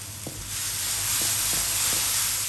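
Coconut and salt are stirred into melted sugar syrup in a pan, giving a steady close sizzle and hiss with a few soft scraping taps from the stirring.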